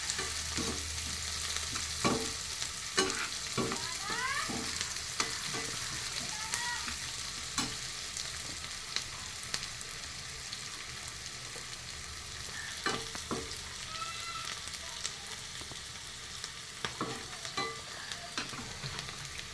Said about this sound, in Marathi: कांद्याला चांगला खरपूस रंग येईपर्यंत भाजायचं